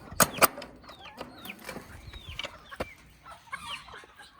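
Chickens and young chicks being moved into a shared backyard run cluck and chirp in short, irregular calls, some close and sharp, others softer, with no talking.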